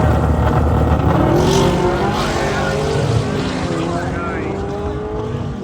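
A loud, roaring drag race car engine blasts continuously at close range as it launches off the line in a big wheelie, the pitch rising and shifting as it pulls away.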